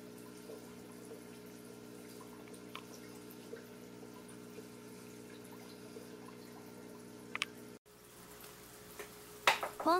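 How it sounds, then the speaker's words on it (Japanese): An aquarium air pump hums steadily and loudly with a constant low drone, then the tone shifts after a brief gap and light splashing and bubbling water joins in near the end. "ポンプがうるさいです"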